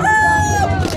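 A rooster crows loudly and close by at a village market in the Sundarbans, one sustained, wavering call over a low background murmur.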